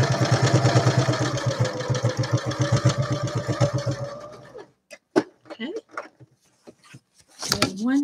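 A sewing machine runs a fast, even straight stitch through a paper journal spine for about four seconds, then stops, leaving a few soft handling clicks and rustles.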